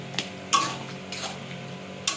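A metal lid is lifted off a pot of vegetarian young jackfruit curry, giving a sharp clink followed by a softer clatter and a later light tap.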